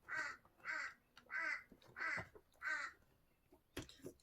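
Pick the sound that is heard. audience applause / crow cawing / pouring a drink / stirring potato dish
crow cawing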